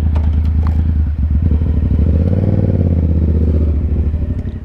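Yamaha FZ-07 motorcycle pulling away, its engine loud and near with a throbbing, slightly clattery exhaust note that rises as the bike moves off and begins to fade.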